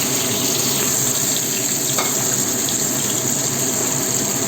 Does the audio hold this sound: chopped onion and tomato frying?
yes